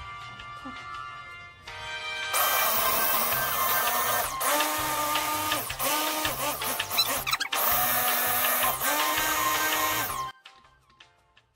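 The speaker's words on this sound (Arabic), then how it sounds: "دابا اخوان غادي نطحنوا هادشي هذا كامل." A small electric grinder milling a herbal remedy for chickens, a loud steady whirring drone running about eight seconds with brief dips, starting and stopping cleanly, with faint sounds before and after.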